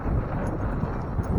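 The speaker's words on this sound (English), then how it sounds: "And it is windy today." Wind buffeting a microphone at a lake on a windy day, a continuous low rumbling roar with slight gusting swells and nothing else audible.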